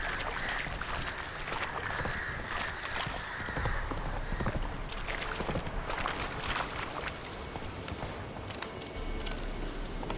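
Horse hooves clip-clop steadily beneath a dense bed of game ambience in The Witcher 3, a continuous ride at moderate distance with no pauses.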